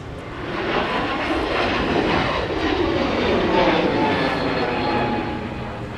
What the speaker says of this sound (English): That's off to Anchorage, Alaska, flight 377 on a Delta 377.